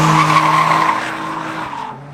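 A left-hand drive Nissan S14 skids on a track with loud tire squeal over engine drone, the howl strongest early on and fading over about two seconds.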